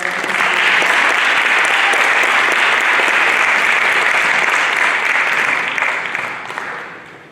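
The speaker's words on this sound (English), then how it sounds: "Let's give a round of applause for our" Audience applauding after a student team's final product pitch, loud sustained clapping from a sizable crowd that holds steady and then tapers off at the end.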